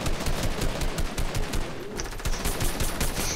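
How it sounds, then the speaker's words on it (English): Rapid automatic gunfire in a Fortnite Team Rumble match, a dense, continuous burst of closely spaced shots rattling steadily for several seconds, loud and near, with no speech over it. "I'm just laying down fire wherever I"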